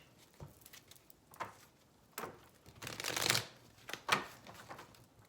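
Oracle cards are shuffled by hand in several quick, soft bursts of riffling and sliding, close and fairly quiet, with short pauses between them.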